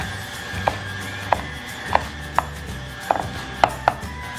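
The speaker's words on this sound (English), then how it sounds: "So now we're just gonna chop these up." A knife chops ingredients for cherry cheesecake shooters, giving about eight sharp, separate strokes at an uneven pace over a steady low background hum, with no talking.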